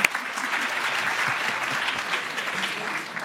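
Steady applause from an audience filling a conference hall at a colloquium, even and sustained for several seconds with no speech on top, moderately loud and slightly distant.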